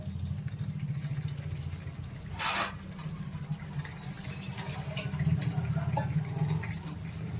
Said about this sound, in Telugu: ఇప్పుడు మనం కొద్దిగా వాటర్ పోసేసుకుందామండి.